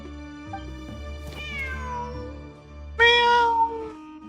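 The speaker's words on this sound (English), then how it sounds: "Wait, there it is! The cat!" Cat meowing in Genshin Impact, two clear meows, the second louder and higher, over a soft game music backdrop with no talk.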